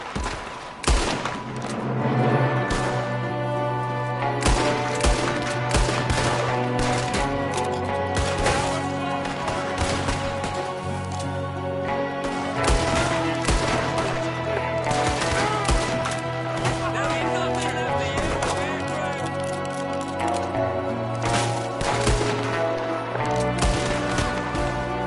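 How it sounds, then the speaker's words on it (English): Gunfire in Red Dead Redemption 2 crackles in sharp, irregular bursts of rapid shots, some near and loud, others scattered, continuing throughout with faint voices and game ambience underneath. "There's another one shooting from the window."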